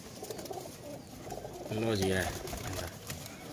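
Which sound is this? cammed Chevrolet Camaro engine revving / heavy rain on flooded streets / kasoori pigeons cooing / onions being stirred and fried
kasoori pigeons cooing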